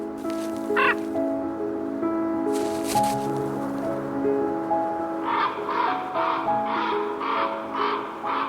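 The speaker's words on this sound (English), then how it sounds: "Ravens are known as wilderness birds, but their numbers have increased, and now they live closer to civilization." Ravens call in the Arctic wilderness of Lapland, a run of harsh caws and croaks, some single and some in a quick repeated series, fairly near over a soft background with no talk.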